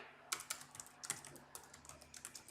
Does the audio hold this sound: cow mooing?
no